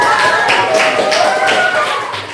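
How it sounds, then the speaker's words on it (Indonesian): Students in a classroom clap their hands together in a series of quick, evenly spaced bursts, loud and close, with faint voices mixed in. "Iya, tepuk tangan dulu."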